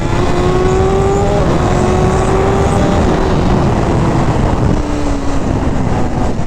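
A BMW S1000RR sportbike pulls hard at half throttle, its engine note climbing steadily through the revs in a loud, close, continuous high-pitched howl with a brief dip near the end.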